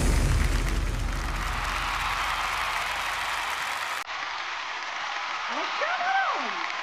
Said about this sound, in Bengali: জোরে হাততালি ওদের জন্য জোরে হাততালি হয়ে যাক